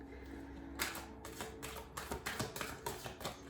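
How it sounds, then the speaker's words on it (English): Tarot cards riffled and shuffled in repeated crisp bursts, close up, with short pauses between, no talking. "This is the old tarot card reader shuffle"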